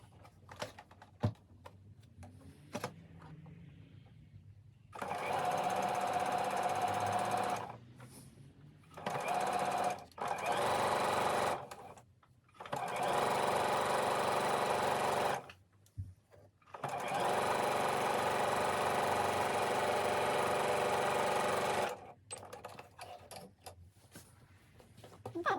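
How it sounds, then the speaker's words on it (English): A sewing machine stitches two fabric edges together for bias binding, running in several long, steady whirring bursts with short pauses and small handling clicks between them. "And I'm going to stitch those two edges together."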